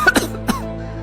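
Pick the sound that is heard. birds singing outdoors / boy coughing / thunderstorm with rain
boy coughing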